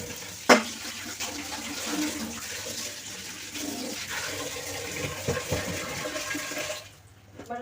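Tap water runs steadily into a container to soak frozen chicken. A sharp knock sounds near the start, and the flow stops near the end.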